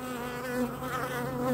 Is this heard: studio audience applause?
no